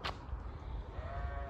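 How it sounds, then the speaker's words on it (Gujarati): Sheep bleat faintly at a sheep farm in an Israeli village, one or two thin calls rising out of a low, steady outdoor rumble. "અહીંયા ઘેટાનું ફાર્મ છે, તો ઘેટા આંદે છે"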